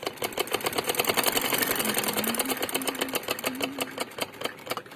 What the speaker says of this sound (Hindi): इस तरह पूरी गोल हम सिलाई लगा लेंगे।